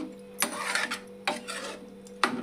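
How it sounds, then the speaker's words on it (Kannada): A ladle scraping and stirring vegetable pulao ingredients inside a pressure cooker, three distinct metallic scrapes against the pot with softer rubbing and swishing between them, close and clear with no voices. "ಮಿಕ್ಸ್ ಮಾಡಿಕೊಂಡು ಎಲ್ಲ ಕಲಿಸ್ಬೇಕು ನೋಡ್ರಿ ಮತ್ತೊಮ್ಮೆ."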